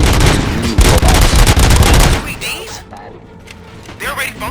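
Dense bursts of gunfire from the video game Robocop: Rogue City crackle loudly in rapid succession for about two seconds, then give way to quieter mechanical clanks and distant rumbles.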